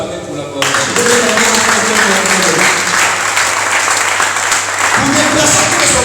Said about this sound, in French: Est-ce qu'on peut acclamer pour la gloire?